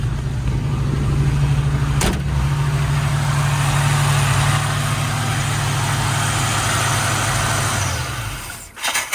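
A hot-wired Chevrolet Blazer engine runs steadily at idle, a loud, close, low rumble that holds without a break, with a sharp click near the start and another near the end as the engine note dips.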